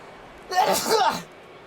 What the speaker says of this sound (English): I'm going to sneeze in just a moment.